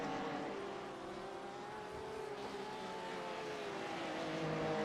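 Race cars including a Porsche lapping Sebring in a sim racing game, engines droning steadily with layered tonal whines as several cars run through the twisty section, continuous and mid-distance with no talk.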